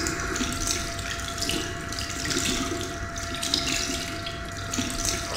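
Shower water running steadily in the video game Fahrenheit: The Indigo Prophecy, a constant close hiss of spray with a faint tonal hum underneath and no talking.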